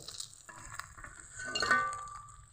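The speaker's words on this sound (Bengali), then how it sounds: "আমার কাঁকড়াগুলো ভাজা হয়ে গেছে, এখন তেল থেকে তুলে নিব।" Crabs frying in hot oil in a home kitchen, a steady low sizzle with a few light clinks and stirring scrapes of a utensil, building slightly toward the end as they are lifted out.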